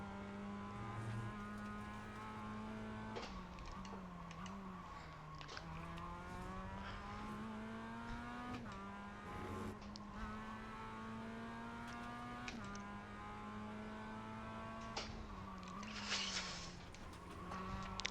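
A race car in a racing video game laps Virginia International Raceway, its engine droning steadily with repeated rising revs and sharp gear-shift drops, loud and continuous throughout.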